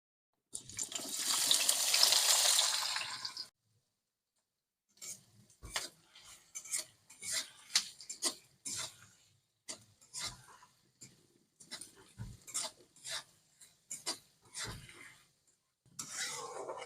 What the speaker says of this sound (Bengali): এবারে আমি তেলের মধ্যে দিয়ে দেবো পেঁয়াজ কুচিগুলো